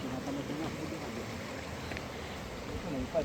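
A mountain stream flows in Kananaskis Country, Canada, as a soft, steady rushing wash. The water stays faint and even throughout, with slight hints of a voice in the background.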